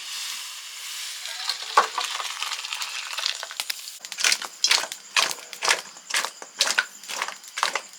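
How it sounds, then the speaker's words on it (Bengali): Lentil dal cooked with drumsticks is ladled out of a pot, making a rhythmic series of metallic scrapes and clinks that grow sharper and more regular in the second half. "সজনে ডাটা দিয়ে ডাল এবার ঢেলে নিচ্ছি"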